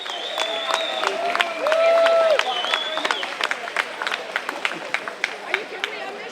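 An outdoor crowd at a mayor's annual senior picnic claps in a burst of applause with cheering and chatter, then thins into scattered individual claps under the hubbub.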